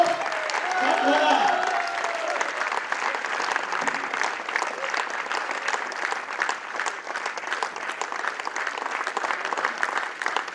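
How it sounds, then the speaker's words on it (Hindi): An audience at a founder's talk breaks into vigorous applause, a steady wash of clapping lasting around ten seconds, with a voice speaking over it at the start. "जोरदार तालियां एक बार"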